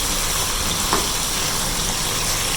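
Chicken pieces fry in a pan for chicken masala gravy, giving a steady, even sizzle throughout with no talking.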